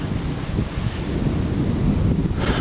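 Heavy rain pours down in a dense, steady roar outdoors, with low rumbling that fits distant thunder and possible wind buffeting on the microphone.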